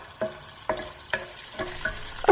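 Chili paste sautés in hot oil on a medium flame, a soft sizzle broken by about five evenly spaced scraping stirs of a utensil across the pan, close and clear.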